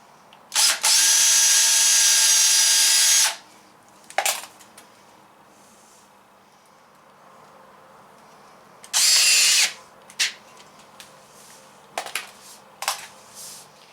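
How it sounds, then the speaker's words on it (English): A power drill bores a hole to attach trim on a teardrop trailer: one long, loud, steady whine of about two and a half seconds, a quick blip, then a shorter burst later, with scattered handling clicks between and no talking. "We'll go ahead and get that first hole drilled, and then we'll start attaching this thing."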